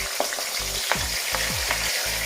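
Onions, sweet peppers and tomatoes crackle in hot oil for Jamaican ackee and saltfish, a close, busy sizzle with quick stirring clatters and short pops.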